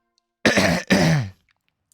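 Two rough throat-clearing bursts in quick succession, close and fairly loud, followed by quiet.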